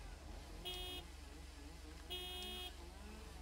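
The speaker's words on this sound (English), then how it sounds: "I just learned I can honk." Two short car horn honks in the video game Lake, each blaring about half a second, separated by a pause over a steady low engine rumble.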